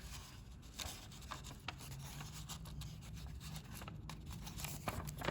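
Quiet, close rubbing and creasing of paper as a crane bookmark is folded, a soft steady scraping with small crisp presses and no voices.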